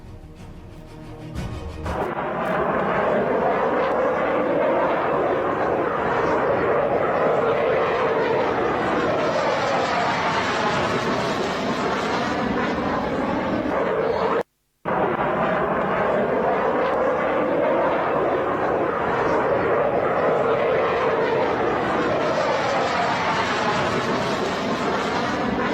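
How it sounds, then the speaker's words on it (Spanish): Loud, continuous roar of jet aircraft as Pakistani Air Force fighter jets escort the Iranian delegation's plane leaving Islamabad, a steady engine drone holding for the whole stretch apart from a brief cut midway. "el avión de la delegación escoltado por cazas de la Fuerza Aérea, jets de la Fuerza Aérea pakistaní"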